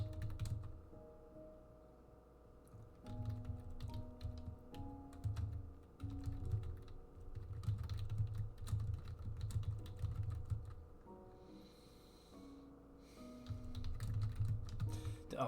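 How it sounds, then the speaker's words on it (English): Typing on a computer keyboard comes in bursts of quick, close clicks and taps, pausing and resuming over steady low background noise. No one speaks. "Oh, sorry, I started typing and just stopped."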